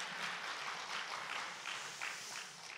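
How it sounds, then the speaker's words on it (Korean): A church congregation at a Sunday service gives a short, soft round of clapping for the choir, heard faintly and at a distance. "박수 한번"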